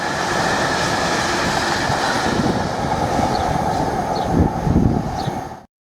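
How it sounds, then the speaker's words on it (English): A Class 66 diesel locomotive, 66617, hauls a stone aggregates freight train past at close range, a loud sustained roar of wagons and rolling wheels with rhythmic rail clatter before the sound cuts off abruptly. "we got 66617 pass through all your stone aggregates train"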